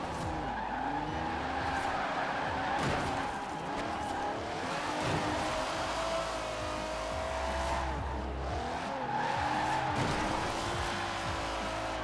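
Car sliding sideways in Forza Horizon 4 on a cheap drift build, engine droning steadily with long tire squeals rising and falling across the whole stretch, loud and continuous with no one talking.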